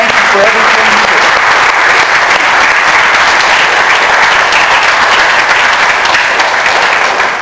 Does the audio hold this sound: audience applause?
yes